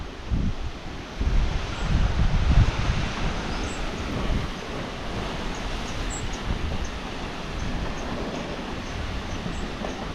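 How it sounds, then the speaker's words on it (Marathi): Strong wind blowing steadily at a homestay, a continuous broadband rush with stronger gusts early on, rumbling against the microphone. "तुम्ही माझ्याकडे बघितलं तरी बघा हवा कशी येते"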